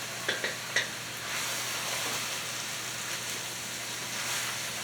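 Stew meat browning in a pan for homemade pasta sauce, a steady close crackling sizzle with a few sharp clinks of a utensil stirring at the start.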